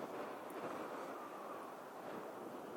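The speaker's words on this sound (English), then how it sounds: "I'm sorry if it's a little windy, but it is howling up here." Wind howling across an exposed mountain pass at Camp Cajon on Route 66, a steady broad roar buffeting the microphone throughout with faint gusting swells and no speech.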